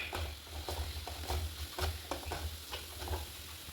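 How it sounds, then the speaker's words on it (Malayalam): Spices being stirred into a mango ginger pickle, a soft repeated scraping and mixing with a low rumble underneath, quiet and steady, with no talking. "നന്നായിട്ടൊന്ന് ഇളക്കി കൊടുക്കാം."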